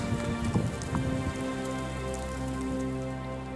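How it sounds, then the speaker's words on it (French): Steady rain mixed with sleet falling during a February snow event near Nantes, France, a dense continuous patter of drops with occasional louder taps, close and alone. "ça se transforme peu à peu en pluie"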